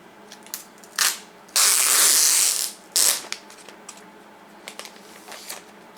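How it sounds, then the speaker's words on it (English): Plastic wrapper crackles and tears as it is pulled off an Apple iPad 2018 box, a few sharp crinkling bursts with one longer rustling stretch, then quieter handling noises. "Okay, so let's take the plastic wrapper off"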